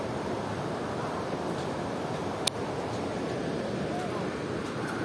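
Strong, muddy brown water rushes at Wawa Dam in a dense, steady roar that stays loud and continuous throughout, with a voice speaking over it.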